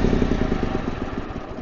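A small tractor engine runs close by at a steady mid-pitched chug, with a faint clattering rhythm throughout, loud and continuous with no talking.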